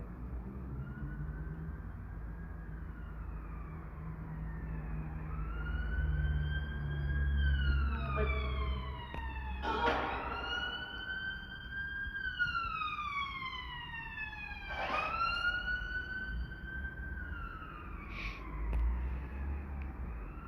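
A wailing emergency siren sweeps up and down repeatedly, rising and falling in long glides, with sharper bursts as the vehicle passes fairly close. No one speaks.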